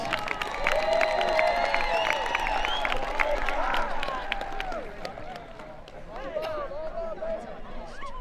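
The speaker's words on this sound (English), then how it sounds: "One more round of applause for electrical occupations." A crowd at a high school career and technical center commencement ceremony applauds and cheers, with whoops and scattered shouts over steady clapping and chatter, fading slightly toward the end.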